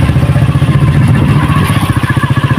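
A motorcycle rumbles loudly and close along a rough, broken road in Pakistan, its engine pulsing in a steady throbbing rhythm with some clatter throughout.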